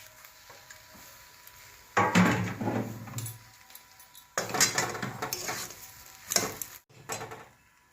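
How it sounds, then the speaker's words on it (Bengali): Potato filling with chopped green chilies is stirred in a pan for aloo paratha, with bursts of utensil scraping and clatter against the metal pan at about two seconds and again around four, between quieter stretches. "কাঁচা লঙ্কা দিয়ে একটু নাড়াচাড়া করবো।"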